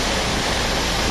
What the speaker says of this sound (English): The creek is flooded over there